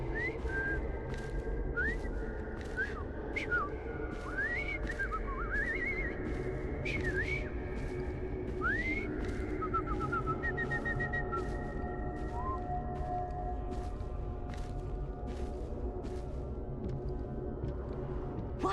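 A character in Assassin's Creed Syndicate whistles a series of short rising and swooping notes over a steady low game ambience, with brief clicks and taps between phrases.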